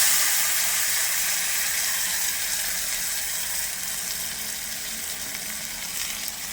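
Potatoes sauté in a pan as ground masala paste goes in, a dense, steady sizzle that fades gradually, with faint clicking movement underneath.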